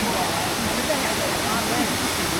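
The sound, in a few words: Champagne Falls waterfall, Tully, Australia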